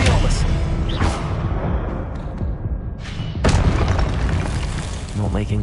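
Booming Confringo spell blasts from Hogwarts Legacy combat, loud and heavy, landing in several thumping bursts over a dense game soundtrack with spoken incantations mixed in.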